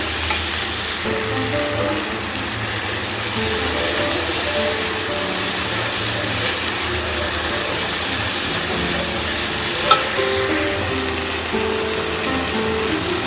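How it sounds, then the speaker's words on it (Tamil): Tomatoes sautéing with salt and turmeric in a pan for a sprout gravy, a steady close sizzle and hiss running throughout with occasional scrape of stirring, no voices. "தக்காளி நல்லா வதங்கணும்."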